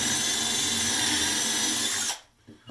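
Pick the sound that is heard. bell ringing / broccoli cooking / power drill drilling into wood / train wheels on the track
power drill drilling into wood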